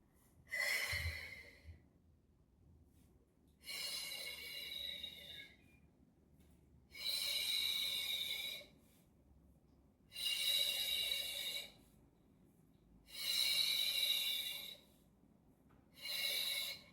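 Loud, regular breaths during a Pilates single leg stretch core workout, six long hissing inhales and exhales spaced a couple of seconds apart, with quiet gaps between them.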